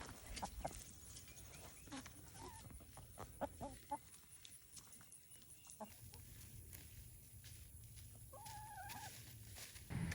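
Backyard chickens cluck in short, scattered bursts close by, with a few higher squawks near the end, set against quiet outdoor ambience.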